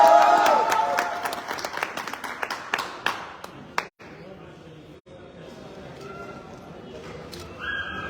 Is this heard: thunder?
no